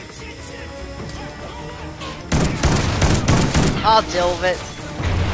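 In Call of Duty: Ghosts, a sudden loud blast followed by a sustained roar of rapid gunfire and booming impacts, close and heavy, with a voice briefly heard just before it starts.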